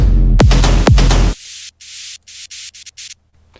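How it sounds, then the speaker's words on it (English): A loud burst of broadband white noise added to a music drop, then choppy gated hiss pulses in a stuttering rhythm, cutting in and out abruptly. "to add like some white noise"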